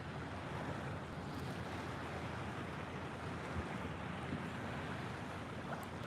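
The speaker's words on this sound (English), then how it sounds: "I'm catching some big waves now." Steady broadband rush of big waves and wind buffeting a boat out on Charleston Harbor, South Carolina, continuous and loud throughout with no voices.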